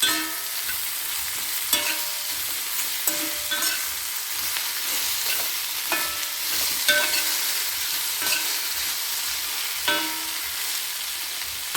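Spiced bitter gourd, rubbed with turmeric and salt, is stirred in a frying pan under a steady sizzle, with repeated scraping strokes of a spoon every second or two, fairly close and with no talking.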